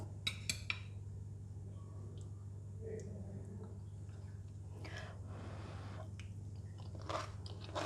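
Crunchy stir-fried leek and carrots being chewed close up, with faint, irregular crisp crunches and clicks over a low steady hum in a quiet room.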